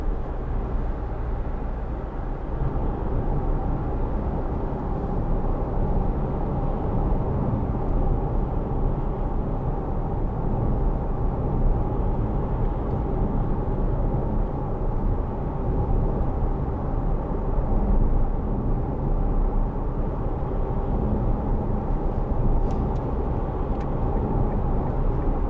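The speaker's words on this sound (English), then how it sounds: "Little bit of tyre noise" Steady broadband road and tyre roar from a 2010 Kia Sportage 2.0 CRDi First Edition while driving, a continuous low rumble with a constant level throughout and no talking.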